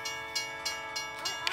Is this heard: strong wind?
no